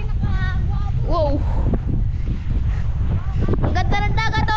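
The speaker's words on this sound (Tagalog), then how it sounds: "Yung dagat, ang lakas. Lakas ng hangin." Strong wind buffets the microphone beside a rough sea with crashing waves, a constant rumbling roar, while people talk and shout excitedly over it.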